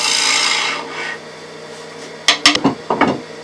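A swept-back-grind bowl gouge cutting wood on a lathe, held in an overhand grip, gives a steady rasping scrape that fades, then a few short, sharp scraping bursts near at hand.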